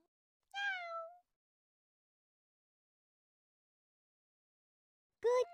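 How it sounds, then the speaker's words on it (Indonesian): A cartoon cat in a children's animal-learning cartoon meows twice, a clear drawn-out meow followed after a long silence by a short second one. "Kucing, kucing. Meow,"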